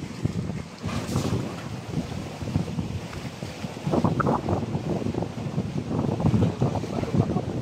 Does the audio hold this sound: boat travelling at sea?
yes